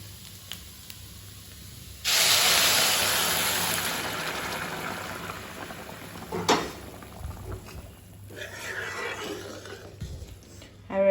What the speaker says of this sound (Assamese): ইয়াত দি দিম